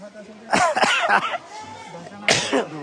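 A few harsh, close coughs come in quick bursts, then a short pause before one more cough.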